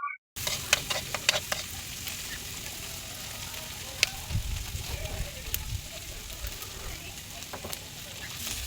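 Kangkong stems fry in garlic and onion with a steady close sizzle and crackle, punctuated by stirring clicks and scrapes, with a voice talking faintly underneath.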